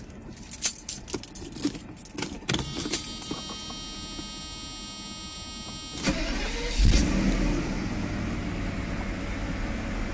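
A 1995 Mercedes S600 being started: keys jangle and click in the ignition for several seconds, then the engine cranks and catches around the six-second mark and settles into a steady idle, close and fairly quiet.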